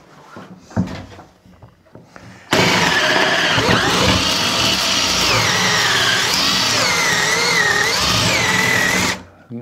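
A power drill fitted with a larger bit bores while fitting a door latch in a farmhouse renovation. After a few quiet knocks, it starts abruptly and runs loud and continuous for about seven seconds, with its whine wavering in pitch, then stops.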